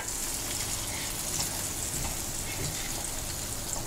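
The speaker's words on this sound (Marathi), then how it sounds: "आता हे मासे माझे एका बाजून चांगले भाजले, आता मी यांका दुसऱ्या बाजून भाजून घेतोय" Surmai fish pieces frying in a pan on their second side, a steady, even sizzle with fine crackling throughout, close and continuous with no talking.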